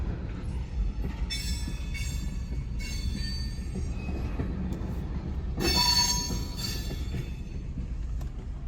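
CSX L235 freight train rolling slowly into the Rocky Mount yard, a deep steady rumble with bursts of high wheel squeal coming and going, close by.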